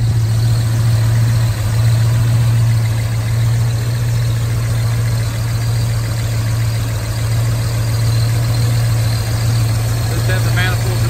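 A 1953 Chevrolet Suburban with a 468 engine, dual quad carburetors, ceramic-coated manifolds and dual exhaust idles in a steady, loud, low rumble that holds evenly throughout, with a person talking over it.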